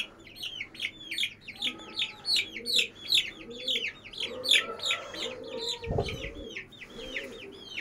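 A flock of hens with their month-old chicks: steady high chirps from the chicks layered over soft hen clucks, with a brief low thump near the end.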